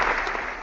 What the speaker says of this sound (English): I had to give myself an applause for that one.